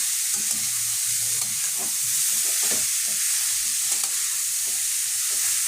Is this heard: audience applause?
no